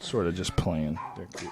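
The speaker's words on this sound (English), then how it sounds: "So we got dogs in here, folks. I got 2 Chihuahuas here." Two Chihuahuas make small yips and whimpers indoors, partly buried under someone talking close by.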